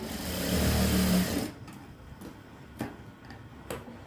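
A sewing machine stitches a blouse in a brief steady whir that cuts off after about a second and a half, followed by a few sparse ticks and clicks.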